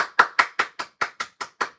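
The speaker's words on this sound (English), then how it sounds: "Give her a round of applause, everyone." Single person clapping slowly and steadily, about ten crisp, evenly spaced claps close up in a quiet room, with no other voices.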